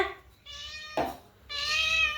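A cat meows twice, a short call followed by a longer, louder one, close by with no talking.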